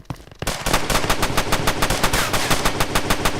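Rapid bursts of automatic gunfire in a Roblox game, loud and close, with sharp evenly spaced shots rattling in quick succession.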